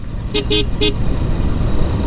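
A vehicle horn on a mountain road in Bangladesh gives three quick, close toots in a row, heard over the rumble of a moving motorbike and road noise.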